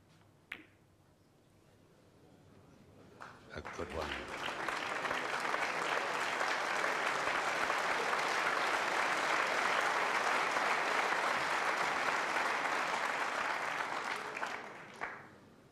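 Sustained crowd applause at the 1985 Crucible snooker final, building from a few claps into loud, dense clapping that holds steady for over ten seconds before stopping abruptly.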